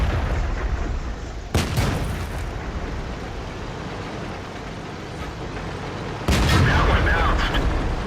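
Tank cannon fire in World of Tanks, two sharp, loud booms several seconds apart, each followed by a rumbling tail over steady battle ambience.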